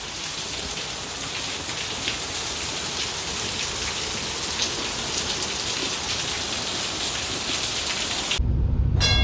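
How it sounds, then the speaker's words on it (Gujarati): Heavy torrential downpour roaring steadily and loud throughout, a dense close hiss of rain pounding surfaces, cutting abruptly to a low rumble at the very end. "એટલો ધોધમાર વરસાદ ચાલુ છે ગાઈસ, તમને બતાડી દઉં."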